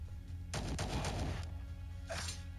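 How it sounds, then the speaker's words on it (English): Rapid gunfire in the sci-fi tactics game Star Traders Frontiers: a quick, faint burst of several shots, then a single softer shot a moment later. "Let's see some rapid fire from you"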